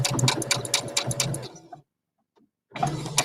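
A sewing machine stitching fabric in quick, rhythmic bursts up close, stopping abruptly for about a second of silence before the steady whirring resumes.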